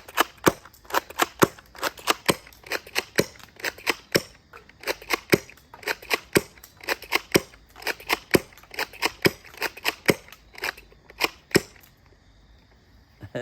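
Rapid volleys of sharp snapping pops from a Nerf Nightfall gel blaster pump shotgun firing five gel shots at once, about thirty loud, close cracks in a quick irregular rhythm, tapering to quiet at the end, tested at night.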